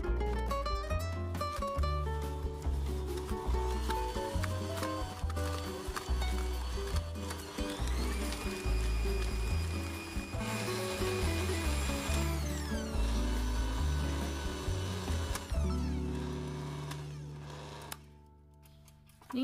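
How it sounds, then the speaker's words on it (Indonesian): Electric hand mixer beating an erythritol sugar mixture until smooth, a steady close whirring drone with shifting pitch as the beaters work through the bowl, continuous with no talking. "Kita mixer dulu hingga lembut."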